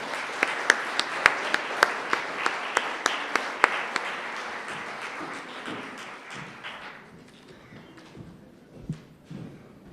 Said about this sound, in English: Could we have a warm round of applause for all our speakers, please?